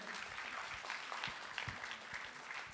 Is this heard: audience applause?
yes